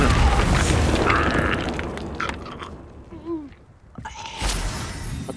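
Expelliarmus spell cast in Hogwarts Legacy, heard as a loud booming whoosh at the start that fades into scattered clicks, chimes and other game effects, with a sharper burst near the end.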